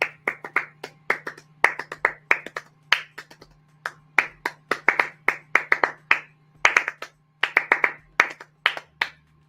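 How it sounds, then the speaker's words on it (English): Sharp, evenly paced claps or snaps ring out in quick bursts near the microphone, as an audience at a talk on plant-based living claps along, with brief pauses between runs and no talking. "Clap it up if you enjoy it."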